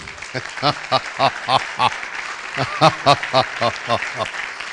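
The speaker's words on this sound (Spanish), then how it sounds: "Ok, ahora sí, aplaudimos." Rhythmic, unison clapping from a congregation at a religious teaching program, in steady beats mixed with loud harmonic voices calling out in time, fairly close and full.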